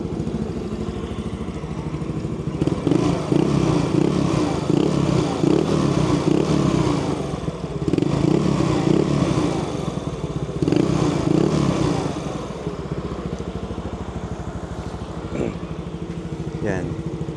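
A Yamaha Mio Sporty scooter engine idles and revs in several bursts, its exhaust buzzing loudly and close, with brief pauses between throttle blips.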